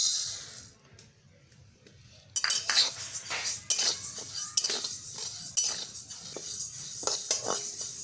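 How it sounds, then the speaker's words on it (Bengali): Moong dal is dry-roasted in a dry wok. After a quiet pause, a utensil scrapes and clinks against the metal in uneven, repeated strokes, close by, with a faint sizzle beneath and no talking. "এখন শুকনো কড়াইয়ে মুগ ডালগুলো হালকা ভেজে নেব।"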